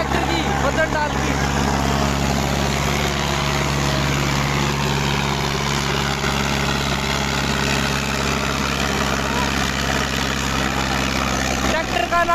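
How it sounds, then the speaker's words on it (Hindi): A Sonalika DI-55 tractor engine runs steadily at close range, a loud continuous low rumble with a constant idling throb that holds unchanged throughout the clip. "देखो भाई चाल बढ़ाओ ट्रैक्टर की"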